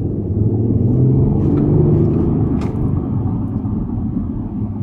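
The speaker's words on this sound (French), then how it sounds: "Il y a un système d'échappement piloté qui fait qu'en mode dynamique, on a l'impression d'avoir un V8." A 2020 Audi S5 TDI with an active exhaust in dynamic mode gives a deep, V8-like burbling rumble from the cabin, steady and loud throughout.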